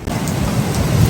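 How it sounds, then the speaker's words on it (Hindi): Heavy rain pours during a severe storm in a city, a dense steady roar with low thunder rumbling underneath and no voices. "बारिश आ गई है, तेज"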